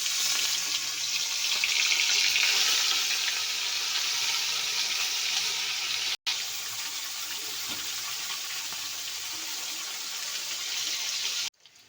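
Bata fish fry in well-heated oil, a bright, steady sizzling hiss that starts strong and eases slightly, broken by one brief cut midway, with no voices over it.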